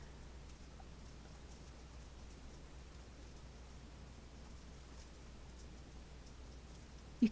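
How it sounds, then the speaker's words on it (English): Steady rain falls outside as a faint, even hiss with scattered soft ticks, constant and distant, with no voices over it. "The rain is really loud."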